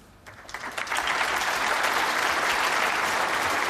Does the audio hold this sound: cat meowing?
no